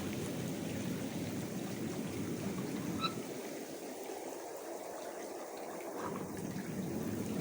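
Water spills steadily from the waterfall jets of an Onyx spa pool, a continuous near splashing and trickling wash with no pauses and no talk.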